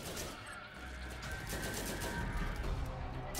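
Gunfire in the Borderlands video game aimed at the ground, a steady, loud rattle of rapid shots with crackling bursts lasting throughout, no talk over it.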